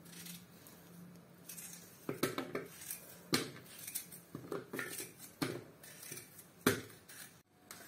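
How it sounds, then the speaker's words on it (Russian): A knife knocks repeatedly against a cutting board in irregular, fairly quick chops, dicing potatoes into medium cubes, close and crisp over faint background hiss. "Сейчас буду нарезать картошку. Картошку нарезаем мелким кубиком."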